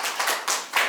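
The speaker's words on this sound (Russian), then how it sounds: "хлопаем" Children clapping at a chess competition award ceremony, a brief close burst of hand claps in uneven pulses lasting about a second.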